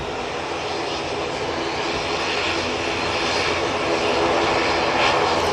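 A jet airliner departing Manchester Airport roars steadily as a broad, continuous engine rush that builds slightly toward the end, with no talk over it.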